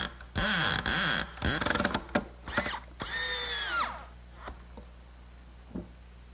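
Power drill driving a screw into the saddle of a wooden rocking horse: several short, loud whirring bursts with rising and falling pitch, stop-start, then a final longer spin that fades to quiet, no voices.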